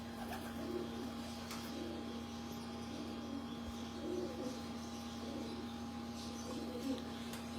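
Breeder pigeons in a loft give soft, intermittent coos close by, set against a steady electrical hum and a low background drone, with no one speaking.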